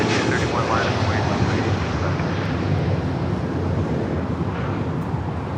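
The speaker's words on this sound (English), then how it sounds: "That is Asiana Airlines 201 departing to Seoul on the A380." An Asiana Airlines Airbus A380 departing Los Angeles International Airport produces a steady, loud jet roar throughout, broad and continuous with some wind buffeting, while voices talk over it.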